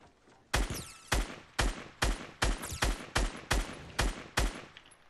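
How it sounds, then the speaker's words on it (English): Rapid video game gunfire: about nine sharp, loud shots in a steady, evenly spaced rhythm, each with a short ringing tail, no voices over it. "I'm shooting at the people behind them."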